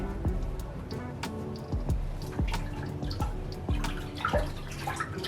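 Small splashes and drips as red pigment is dropped and stirred into a container of water for dyeing a wig, with repeated soft plops and liquid swirling sounds at close range throughout.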